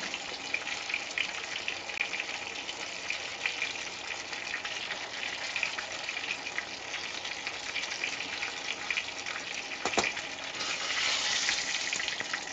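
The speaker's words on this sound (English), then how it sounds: "Give this a quick stir." Chicken parm ingredients sizzling steadily in a hot pan while being given a quick stir, a continuous close frying hiss with no talking.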